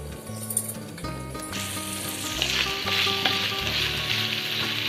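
Chicken with tender tamarind leaves cooks in a pan, giving a steady, close oily sizzle that runs the whole time with soft stirring underneath, over faint background music and with no talking.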